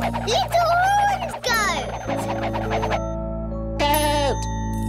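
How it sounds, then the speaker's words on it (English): A little horned goat bleats in several wavering cries, a long one and a shorter one early on and another after a pause, loud and close over a steady tonal backing. "Little horned"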